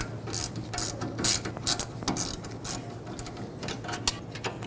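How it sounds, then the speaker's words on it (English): A ratchet wrench loosens the caliper bolts on the rear brakes of a 2015-2020 Ford F-150, giving rapid, close, bright clicking in uneven bursts over a steady low hum. "remove both of these bolts that hold the caliper onto the bracket"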